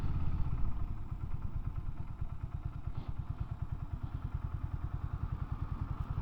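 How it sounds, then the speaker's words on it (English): A BSA 650 Scrambler motorcycle engine idles steadily while warming up, its low, even exhaust pulses thumping in a close, continuous rhythm with no one talking. "I mean, you let the bike warm up"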